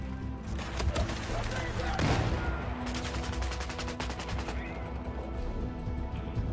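Rapid bursts of automatic gunfire rattle through a Battlefield 4 multiplayer firefight, a dense volley in the middle and another spell of quick shots before it thins out, with players' voices talking over it.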